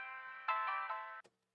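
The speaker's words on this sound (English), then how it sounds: "if you had a full telephone effect on it, it would sound like this" A beat run through an old telephone effect in FL Studio plays thin, narrow and boxy, with rhythmic pulses over a sustained tone before it cuts off abruptly, followed by one short blip.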